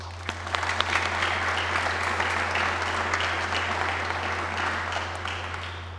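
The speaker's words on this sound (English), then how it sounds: "I'd like to just have you give him another round of applause" Audience at a Hall of Fame brunch gives a sustained round of applause for the Director of Athletics, a steady, even mass of clapping with a low hum running underneath throughout.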